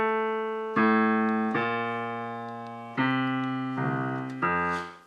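Highlife walking bass-line lick, played as a clean run of sustained notes stepping from the root to the third and down the progression, each note struck cleanly and left to ring, with no talking.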